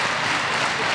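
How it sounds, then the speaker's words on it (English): A crowd at an MMA cage fight for a title bout claps and stamps its feet in support of a fighter. The applause is a dense, loud and continuous roar that fills the arena. "And the crowd here clapping, stamping their feet in support of Nicolas Dalby."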